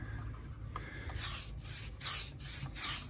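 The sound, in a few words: brushing black oxide into concrete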